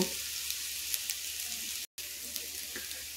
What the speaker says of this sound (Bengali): এই যে দেখুন, চাউমিনটা কিন্তু ভাজা হয়ে গেছে